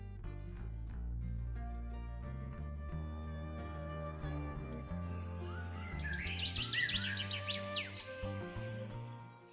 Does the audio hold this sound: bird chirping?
yes